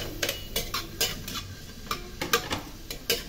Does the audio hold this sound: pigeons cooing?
no